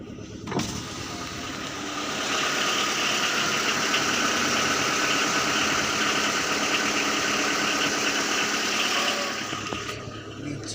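A diesel car engine idles steadily after a cold start on a freshly restored car, giving a continuous close rumble with a faint knocking texture that swells slightly after two seconds and holds before easing off near the end.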